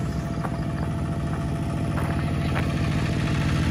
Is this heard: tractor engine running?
yes